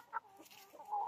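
Chickens and a young rooster in a backyard flock cluck softly, with one short call near the start and a longer, steadier cluck at the end, faint and close with no talking.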